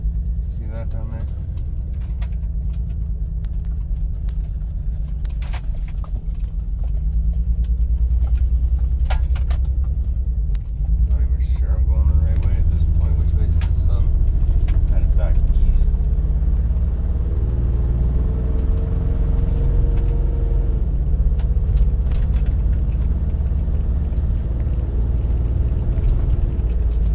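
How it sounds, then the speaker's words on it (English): A car drives along a road with a steady, loud low engine and road rumble throughout, heard from inside the vehicle, while people talk over it. "I'll drive down there just to show the camera"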